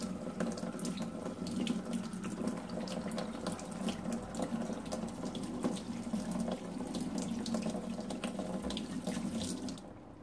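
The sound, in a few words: tomato seeds washed under running tap water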